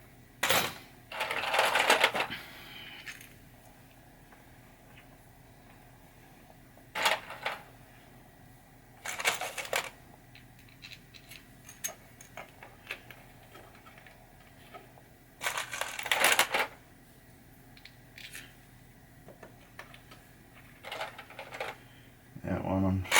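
A screw being driven into the wooden playfield of a 1973 Williams Travel Time pinball machine during a rebuild, heard as several short grinding, ratcheting bursts separated by quiet pauses.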